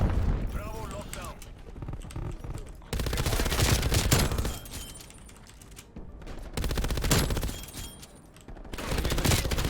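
An MG82 light machine gun in Black Ops Cold War fires in long, loud sustained bursts with brief pauses between them, while someone talks over the shooting.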